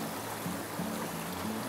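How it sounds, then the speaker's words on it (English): Creek water flowing beside a hiking trail on the Appalachian Trail near Glasgow, Virginia, a steady broadband rush and gurgle, close and continuous with no voices. "All right, so there's our creek."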